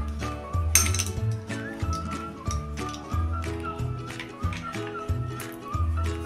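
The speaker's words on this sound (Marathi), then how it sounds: "आता त्यामध्ये आपण ही बर्फाचे एक क्यूब टाकून घेऊया।" Light glassy clinks and taps of an ice cube in a glass of watermelon juice repeat at an irregular pace, close up, over a soft background of music-like tones.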